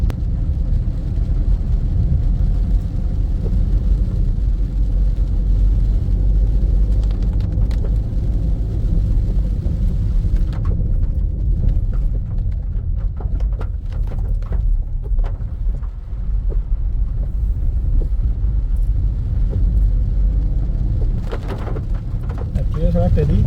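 Heavy rain pours through a forest near a waterfall, a dense, steady roar that stays loud and constant throughout, with deep low rumbling underneath.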